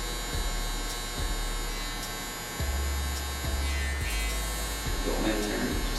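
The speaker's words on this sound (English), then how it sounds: "Stretching the skin using the corner of the clipper." Electric hair clippers buzz steadily at close range during a haircut, the motor tone dipping briefly each time the blades bite into hair.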